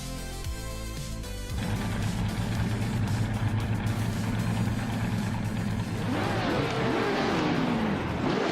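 Race cars at Charlotte Road Course in a racing video game sit idling, then surge into a loud sustained engine roar as the pack pulls away, with rising revving sweeps toward the end.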